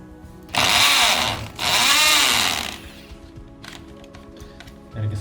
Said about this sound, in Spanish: Ahora vamos a taladrar. Voy a usar una broca del número 6.